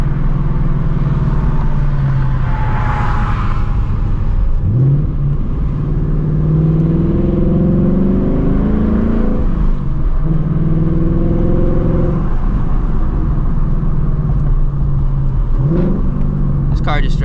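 A 2024 Ford Mustang GT running E85 in sport mode accelerates through several gears, the engine note climbing in repeated sweeps with brief dips at each shift, loud and close from inside the cabin, with a voice speaking over it.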